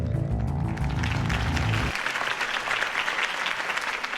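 Crowd applause rises after a campaign speech in Batman: The Telltale Series, starting under a low music swell that cuts off, then continuing as dense, steady clapping from a large audience.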